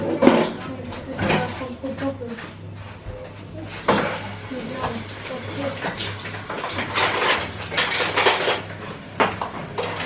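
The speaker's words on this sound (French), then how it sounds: "elle range les couverts" Cutlery and dishes being put away in a busy family kitchen, with repeated close metallic clinks and clatters coming in bursts while people talk throughout.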